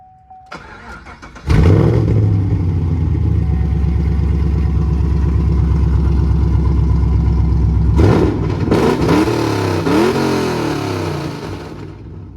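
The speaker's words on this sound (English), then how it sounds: "We'll do some revs for you." A Chevrolet Camaro engine with long tube headers fires up loud and close, holds a deep rumbling idle, then revs sharply several times with a raspy, throaty tone.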